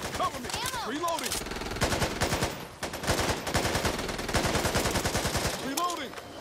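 Rapid machine-gun bursts and gunshots in the shooter Back 4 Blood fire in dense, rattling volleys for most of the stretch, loud and close, with a few brief pauses between strings of shots.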